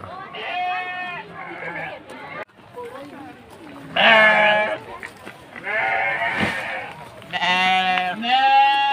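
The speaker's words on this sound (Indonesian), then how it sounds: "Ini venue kambing domba." Sheep and goats bleat repeatedly in a dairy farm pen, several overlapping animal calls rising and falling close by, with bursts of varied pitch from different animals across the scene.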